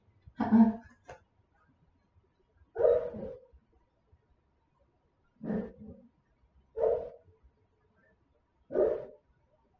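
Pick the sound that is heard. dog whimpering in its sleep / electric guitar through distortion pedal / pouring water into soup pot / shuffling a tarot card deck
dog whimpering in its sleep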